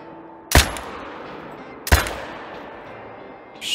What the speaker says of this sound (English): Should go down with those three shots.